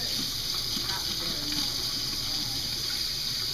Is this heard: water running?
yes